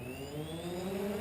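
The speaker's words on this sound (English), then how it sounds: "This is the sound of a drone flying up the cables to the masts." A faint, steady whir of a small drone motor climbing cables toward a roof's masts, rising gradually in pitch as it climbs, with a low engine-like hum underneath.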